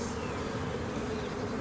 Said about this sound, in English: there are bees at the top here